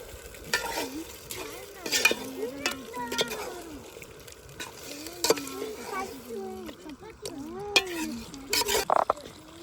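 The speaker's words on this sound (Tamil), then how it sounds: "நல்லா சிக்கன் அந்த மசாலாவோட சேர்த்து ஒரு பத்து நிமிஷத்துக்கு நல்லா வேக விட்டுக்கலாம்" Chicken cooks with masala in a pot for biryani, with soft sizzling and repeated stirring scrapes throughout. A person talks over the cooking sounds.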